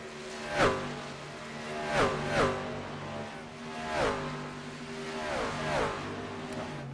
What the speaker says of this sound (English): Hearing those trucks scream as they come around the track, down the front and back straightaways.